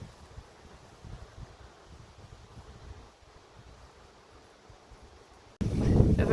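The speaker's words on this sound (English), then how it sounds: "It's wet and it's windy." Wind on a wet autumn day at Russborough House gardens and park in Ireland: soft gusting rush and low rumble across the microphone, then a sudden louder blast of wind buffeting at the end.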